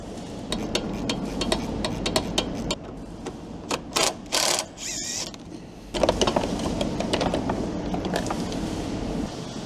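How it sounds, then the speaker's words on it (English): Ratchet spanner undoing bolts on a plastic intercooler shroud of a Ford Ranger, quick rapid clicking bursts close up, with sharp knocks and brief plastic creaks between runs. "8mm long handle ratchet spanners to go for the top 2"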